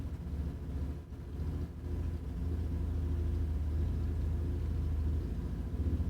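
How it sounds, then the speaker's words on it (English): A motorbike idles across the street, giving a steady low rumbling drone that is distant and muffled and continues without a break. "It's my neighbor across the street idling his motorbike."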